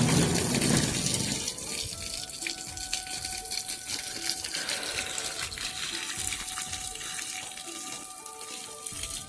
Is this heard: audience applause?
no